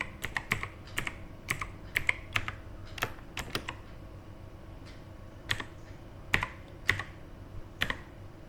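Someone types a password on a keyboard in quick, uneven bursts of crisp key clicks with short pauses between them, close to the microphone in a quiet room.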